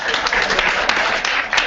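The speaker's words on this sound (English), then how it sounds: "Round of applause." Audience at a student presentation-skills session applauding a product pitch, a short burst of steady, fairly loud crowd clapping.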